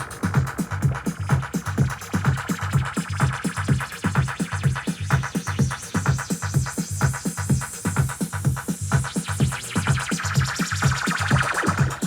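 A pounding electronic loop with steady kick beats as a hiss of white noise from a Pioneer RMX-1000 effects unit rises and sweeps upward over it, growing brighter toward the end.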